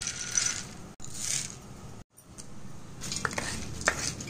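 Roasted peanuts, roasted gram and fried asafoetida for idli podi tossed in a pan off the heat: dry rattling, clinking scrapes of spoon against metal in uneven bursts, with two brief pauses, close and fairly loud.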